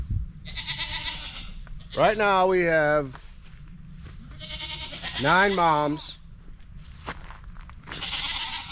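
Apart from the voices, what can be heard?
goats bleating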